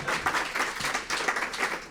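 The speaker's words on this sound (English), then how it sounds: "that deserves a round of applause right there" Audience applause at a 2025 Pride celebration hosted by a state comptroller, a brief burst of steady clapping from a crowd, moderately loud and close.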